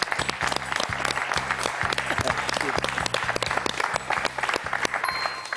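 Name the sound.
studio audience applauding a game show contestant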